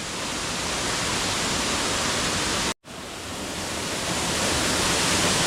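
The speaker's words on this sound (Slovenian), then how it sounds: "Čisto neznan slap v Karavankah. Slap na suhem potoku v dolini Belca." A 30-metre waterfall on a dry creek in the Belca valley, Karavanke mountains, roars with a loud, close, constant rush of water, broken only by a split-second dropout midway.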